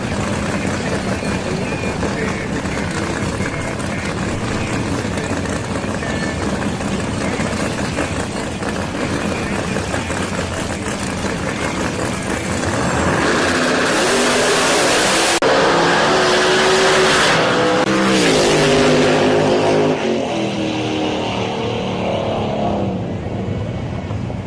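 A green Ford Mustang on a drag strip revs and accelerates, the engine rising in loud sweeping bursts over steady background rumble, with voices talking throughout.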